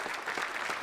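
Brief burst of audience applause at a civic awards ceremony, a dense clatter of many hands clapping at a steady level.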